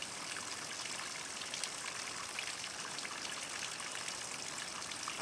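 Water trickling and splashing like a small waterfall inside a flooded room, a steady broad hiss of running water, moderately close and continuous, with no voices.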